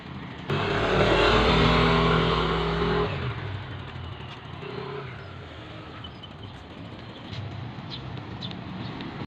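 A motorized tricycle passes near a school's main gate, its engine loud and close at first, then quickly fading into steady outdoor background noise.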